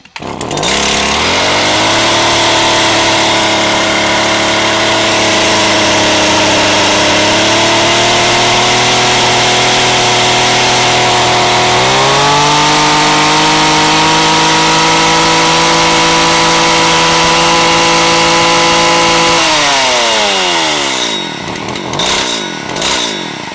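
A Stihl FS 85 brush cutter with a metal brush blade and a new fuel system runs loud and close, holding a steady two-stroke drone that steps up in speed, then winds down and sputters near the end.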